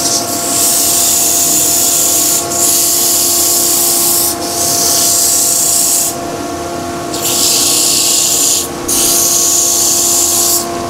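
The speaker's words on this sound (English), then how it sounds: "Now I'm going to sand a little bit of the tenon, not too much." Hand sanding a wooden tenon for a rustic stool: steady, loud rasping strokes in long runs, broken by brief pauses, close up with no talk.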